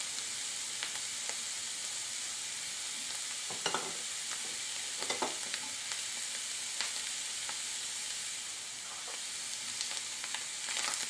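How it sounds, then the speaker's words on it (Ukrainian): Oyster mushrooms and onion fry in a hot pan with a steady, even sizzle, broken by intermittent scrapes and taps as a utensil stirs them. "Перемішуємо, і підсмажуємо."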